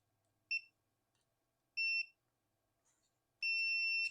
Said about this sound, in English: we can go ahead and check this for continuity